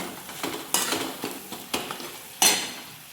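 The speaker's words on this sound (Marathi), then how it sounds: "तर मी त्याच्यामध्ये थोडीशी कोथिंबीर ॲड करते, म्हणजे कोथिंबीर पण परतून निघेल." Coriander leaves are sautéed in hot oil with a chicken tempering, a sizzle broken by several sharp scraping stirs of a utensil against the pan, close and fairly loud.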